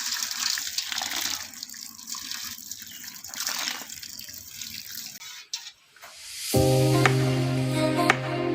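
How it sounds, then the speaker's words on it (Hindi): Hot water pours and splashes steadily for several seconds while cooking a Bodo-style local chicken curry, then stops briefly before a louder, more resonant filling sound takes over near the end. "ये है गरम पानी"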